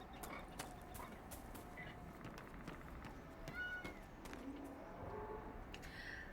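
A couple of faint cat meows from a video game, Dragon Age Inquisition, rise briefly over a low, steady background hum, distant and soft.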